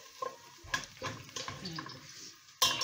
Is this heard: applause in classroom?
no